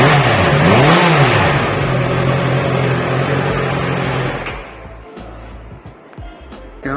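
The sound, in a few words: Honda CBR 650R motorcycle exhaust revving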